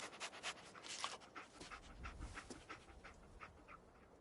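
Dogmeat, the dog companion in Fallout 4, pants steadily in quick rhythmic breaths, close and quiet, continuing alone without talk.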